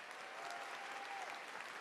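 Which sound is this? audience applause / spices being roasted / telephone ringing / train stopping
audience applause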